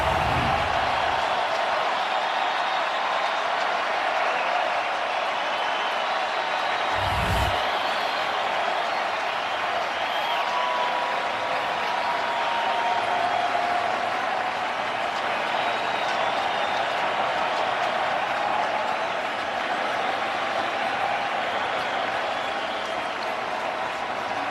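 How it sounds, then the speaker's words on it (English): A baseball stadium crowd at World Series Game 4 between the Astros and Atlanta holds a steady, dense roar of cheering and applause. It stays loud and even throughout, with a play-by-play voice faintly beneath it. "Now the crowd's back."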